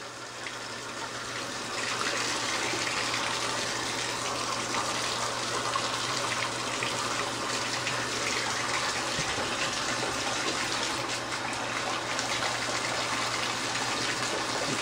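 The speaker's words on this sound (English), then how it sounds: "let the water run through from my bathtub" Steady rushing of water pouring from a bathtub tap, a continuous broadband gush that holds constant throughout with no talking.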